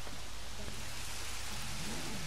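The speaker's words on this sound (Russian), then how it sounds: "Дождь, ветер, красота." Steady rain with wind in the dinosaur park game Jurassic World Evolution, a dense even wash of downpour that holds level throughout with a faint low rumble beneath and no voices.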